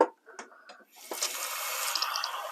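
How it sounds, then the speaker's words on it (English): Water runs from a tap and pours into a saucepan over potatoes, a steady rushing splash after a few small clinks, moderately close. "So pop them in a saucepan, put some water over the top and pop them on to boil"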